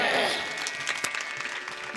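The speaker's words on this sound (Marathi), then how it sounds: "गुणीजनांसाठी टाळ्या वाजवा." Audience applause rings out at a women's kirtan festival in Pimpaldari, a continuous wash of clapping with a few sharper claps, moderately loud throughout.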